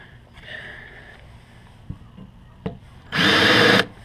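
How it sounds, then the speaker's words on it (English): A power drill countersinks a screw hole for a DIY food storage can shelf in a short loud whirring burst of under a second, following soft handling clicks and taps. "Countersink it."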